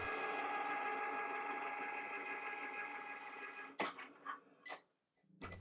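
A Cricut cutting machine transfers foil with a Foil Quill tool, giving a steady, faint mechanical hum for several seconds that then breaks into a few short clicks and movements.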